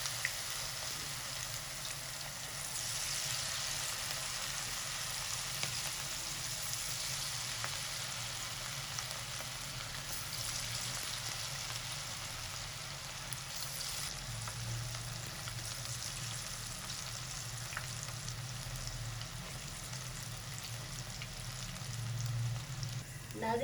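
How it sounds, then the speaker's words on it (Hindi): Chana dal pakoras frying in hot oil, a steady close crackle and sizzle that runs without pause, with no talk over it. "तमाम पकौड़े डालते जाएंगे।"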